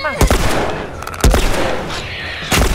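Gunfire from The Last of Us, a headshot among several sharp, loud shots spread through the moment, with tense voices talking and shouting over the action.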